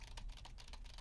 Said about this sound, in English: we're also going to do some keyboard noise here